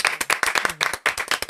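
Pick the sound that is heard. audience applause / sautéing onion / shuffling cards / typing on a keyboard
audience applause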